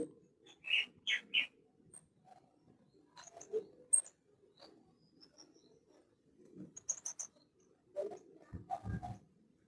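Golden finches chirp and tweet in short, bright bursts, scattered over several seconds with quiet gaps, faint and close, alongside a few low coos.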